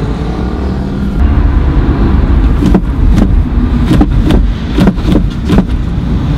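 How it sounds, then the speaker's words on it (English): A Dacia car gives off a series of sharp backfire-like pops and cracks over a steady low engine drone, the bursts coming irregularly and close by in the second half. "It's a sport sound. It's like backfire."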